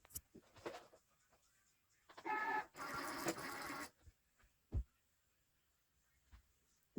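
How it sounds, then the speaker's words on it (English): A Cricut cutting machine feeds in a sheet of printed cardstock, giving a steady mechanical whir of rollers and motor for about two seconds, then a brief pause and a second, slightly longer whir, set between quiet clicks and small handling noises. "Now the printed cardstock is on the Cricut, so I'm going to now feed it."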